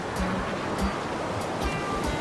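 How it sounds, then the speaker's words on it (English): White-water rapids on the Saru River in Hokkaido rush continuously during an autumn canoe trip, a dense, steady roar with brief surges of splashing. "White waves mean there are rocks hiding underneath the currents."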